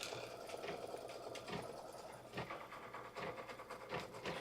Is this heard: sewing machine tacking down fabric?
yes